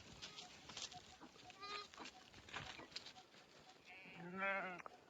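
Sheep bleating on a farm, a few scattered calls building to a loud, close bleat near the end, with voices and background chatter mixed in.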